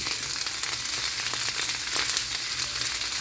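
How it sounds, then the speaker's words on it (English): Vegetables sizzle in a hot pan for a chicken and cabbage stir fry, a steady, fairly quiet hiss of frying heard alone and close. "Hear that? That's what you want to hear. Hot pan."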